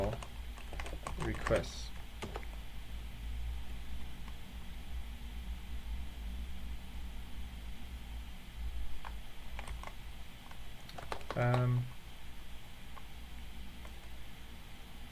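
A command is typed on a computer keyboard during a FreeBSD tutorial, with quick bursts of clicking keystrokes separated by pauses, over a steady fan hiss, and someone speaks briefly.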